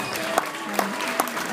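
Rodeo crowd at the Cody Stampede clapping steadily under an announcer's voice, with a few sharper claps standing out at a regular beat.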